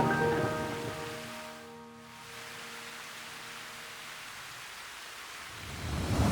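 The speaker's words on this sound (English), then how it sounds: "The rain was relentless." Heavy rain in a Star Stable short film, a steady broad wash of downpour, fairly faint, under a fading musical tone at the start and swelling again at the end; no distinct thunder claps stand out.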